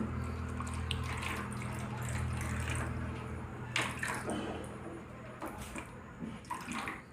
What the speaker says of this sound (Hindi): इसमें हम पानी लेंगे 100 ग्राम तक। ये सादा पानी है।